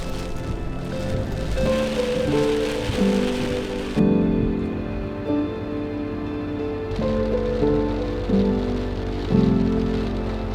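Rain falls steadily on a vehicle on an overland drive through Botswana's Okavango Delta, a dense continuous patter over a low engine rumble, loud and close throughout with no talk.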